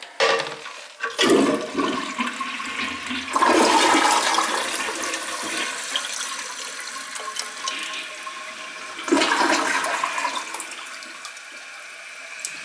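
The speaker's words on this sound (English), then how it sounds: "Gives it the old double flush." Toilet with a faulty running fill flushes twice, each a loud rushing swirl of water followed by a quieter hissing refill of the tank, close and without talk.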